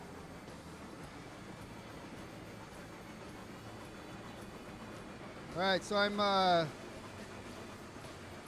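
A train runs in Railroads Online with a low steady rumble, while someone briefly talks over it near the end.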